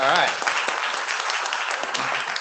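A conference audience claps and cheers briefly, a short burst of applause with voices over it at the start, quickly thinning out.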